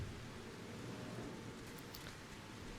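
Steady, soft rain falls in the video game Final Fantasy XIV Online, an even hiss running through the whole stretch with no voices over it.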